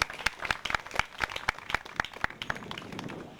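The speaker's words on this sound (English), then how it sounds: "Let's give them both a round of applause." Scattered audience clapping follows a conversation at a Freetown pitch night, sharp individual claps in a loose, fairly regular rhythm, sparse rather than a full crowd, fading toward the end.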